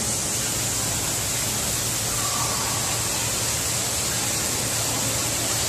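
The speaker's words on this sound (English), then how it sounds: "I can see the waterfall from here." Indoor waterfall inside a botanical garden dome, a steady broadband rush of falling water that fills the space evenly and constantly at close range.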